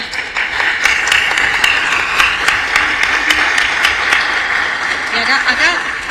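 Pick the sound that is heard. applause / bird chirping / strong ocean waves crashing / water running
applause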